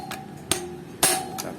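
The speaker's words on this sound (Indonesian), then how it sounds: "Palu sambil diputer biar kuat" Two sharp metallic hammer blows ring out, with a lighter tap around them, while a brake disc is fitted to a Kawasaki KLX motorcycle, the hub turned between strikes to seat it firmly.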